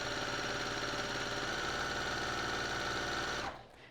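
A sewing machine runs steadily at high speed, stitching quilt columns or rows together, then stops sharply near the end.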